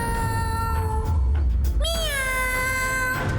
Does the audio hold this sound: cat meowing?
yes